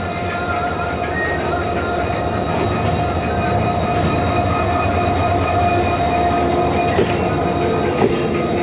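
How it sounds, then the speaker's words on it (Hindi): NLC GMU30 locomotive hauling the Karakoram Express on the Lahore to Khanewal main line: a loud, steady rumble of a passing train with a constant engine drone, rail noise and faint clicks throughout. "NLC locomotive GMU30"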